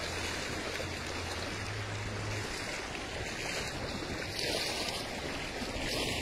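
Water running along a lane in a residential area, a steady, fairly faint rushing wash with no voices, continuous throughout.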